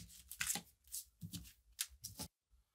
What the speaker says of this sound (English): This is the way you shuffle cards.